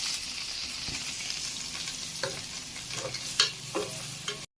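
Onions, green chilies and curry leaves sauté in a pan, making a soft, steady sizzle broken by a few light stirring clicks and scrapes, heard alone at low volume.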